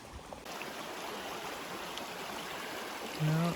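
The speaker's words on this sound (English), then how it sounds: "the creek has overtaken the road" A creek that has overflowed onto a Kananaskis backcountry road gives a steady, broad rushing wash, even and unbroken throughout, with a brief low hum near the end.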